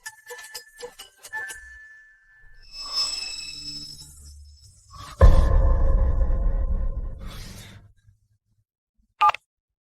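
A mobile phone rings for an incoming call: a short burst of electronic tones, then a louder patterned ringtone lasting a few seconds before stopping, followed by a single brief blip near the end.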